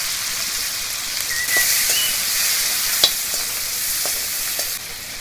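Chopped tomato and coriander sauté in a hot pan for a mushroom-free Marathi greens dish, giving a steady bright sizzle with a few soft stirring ticks, close and continuous, no voices.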